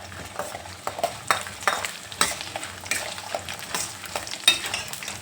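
Ingredients for mango chitranna fry gently in a little oil, a steady close sizzle broken by irregular scraping stir strokes and soft clicks of a spoon against the pan, with no voices.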